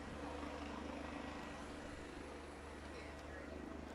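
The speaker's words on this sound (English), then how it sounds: "they're going to let the helicopter land" A helicopter hovers and comes down to land on a high school football field during a game, its steady broadband rotor and engine roar filling the whole stretch at a constant level.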